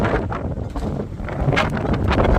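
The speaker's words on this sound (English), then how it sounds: "it's windy. Wow, windy day." Wind buffets the microphone in loud, gusty bursts, a rough low roar that swells and dips for the whole stretch.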